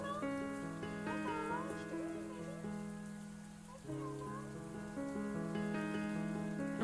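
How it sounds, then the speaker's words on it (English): Steady rain patters against windows in the horror video game MAMIYA, a soft continuous hiss beneath sustained background music tones. "I could hear the rain pattering against the windows."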